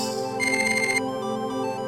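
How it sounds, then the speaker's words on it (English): Electronic phone ringing in a Phoenix Wright video game cutscene, a short warbling synthetic trill lasting about half a second over a soft background music chord. "Electronic noises? A phone ringing?"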